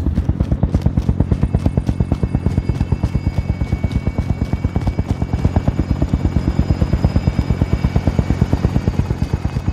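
Military helicopter in Call of Duty: Modern Warfare approaches with a loud, steady rotor chop, fast regular blade thumps filling the whole clip with no talk over it.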